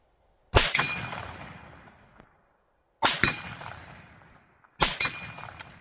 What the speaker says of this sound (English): It's a steel target. I hope you guys hear the ding.